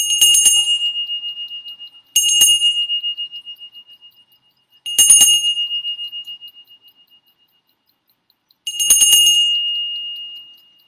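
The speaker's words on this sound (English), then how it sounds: "this is a wonderful old bell" An old bell is struck four times at uneven intervals, each ring bright and metallic with a long fading shimmer, heard up close and alone with no talking.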